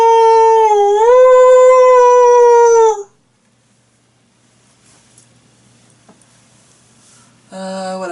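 A person imitates a wolf howl: one long, steady, loud tonal howl lasting about three seconds, followed by near silence and then a brief second howl-like voice at the end.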